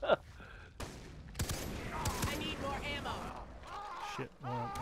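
Scattered gunshots from a Far Cry 3 co-op firefight pop sharply at a moderate distance, mixed with frequent overlapping talk from players.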